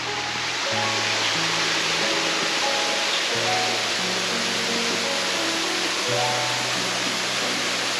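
Datianshan waterfall, about four or five storeys tall in Xizhi, roars in a loud, unbroken wash of falling water, with a low droning tone running underneath.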